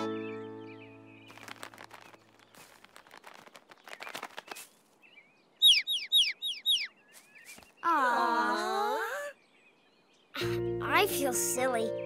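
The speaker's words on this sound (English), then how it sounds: "We were scared of a little bird." A small cartoon bird gives a quick series of high chirps amid other cartoon-like sounds and voices, near and fairly loud.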